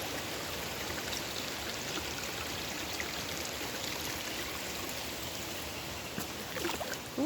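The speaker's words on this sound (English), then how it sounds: "stream heading into the river down there" A small moorland stream in the Dark Peak flows into a river below, giving a steady, close rushing and babbling of water that holds even throughout, with no talking.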